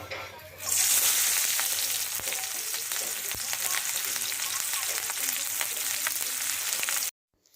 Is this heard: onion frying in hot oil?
yes